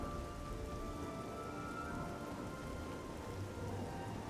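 Steady rain falling in the video game The Elder Scrolls IV: Oblivion, a constant even hiss of drops on surfaces with faint tonal background music, no voices.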